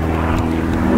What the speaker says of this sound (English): Show them the float plane.